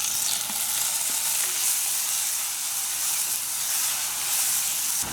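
Onions and garlic cook on medium heat in a pan, a steady hissing sizzle that stays even and fairly loud throughout, with no voices.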